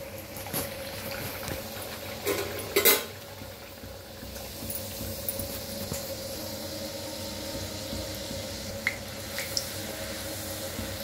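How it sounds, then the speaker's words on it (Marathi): Puris deep frying in hot oil make a continuous bubbling, watery hiss with a brief louder burst early on and small pops scattered throughout, with no speech. "आता तळून दाखवते पुरी तुम्हाला"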